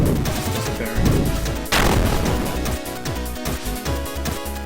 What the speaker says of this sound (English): the explosion when you hit the fireball isn't very